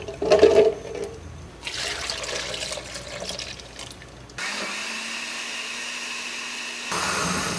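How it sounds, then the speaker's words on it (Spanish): A blender whirs through a milkshake, starting midway with a loud, steady motor drone and a constant hum. Sloshing and handling noise come first, and the drone grows slightly louder near the end. "La vamos a licuar por varios minutos."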